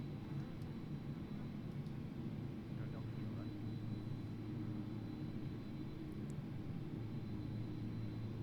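Jet engines of an Inibuilds A300-600R in a flight simulator spooling up under added thrust, a steady loud low rumble and roar that holds throughout without voices.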